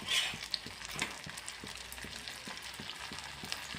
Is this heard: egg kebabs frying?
yes